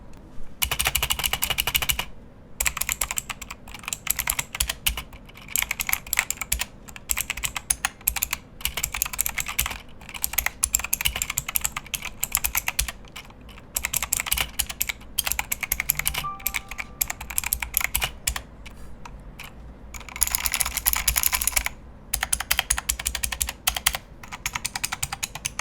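Typing on a Keychron K2 mechanical keyboard, a long, steady run of dense clicky keystrokes in close bursts with brief pauses, heard alone without voices.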